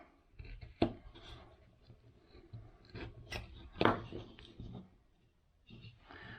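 A knife carves the sideburns into the head of a wooden caricature cowboy bust, producing close, dry scraping and shaving strokes with a few sharper cuts standing out at irregular intervals.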